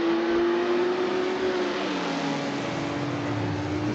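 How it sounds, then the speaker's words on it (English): Mercedes race cars at the Le Mans exhibition rev hard on track, a loud sustained engine roar with a steady high tone that shifts and drops as revs fall, continuous and close throughout. "the noise coming off of those Mercedes"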